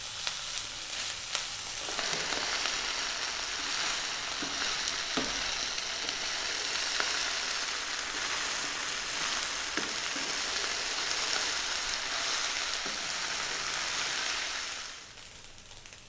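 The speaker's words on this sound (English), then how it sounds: "That's our rice frying." Curried vegetable fried rice with cilantro sizzling steadily in a pan, a dense continuous crackle with occasional faint stirring clicks, close and even throughout with no voices.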